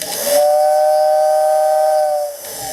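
A Lionel model train steam whistle, set by a Lionel 8251-50 whistle controller, sounds one sustained low, hooting tone with a breathy hiss, starting and stopping cleanly.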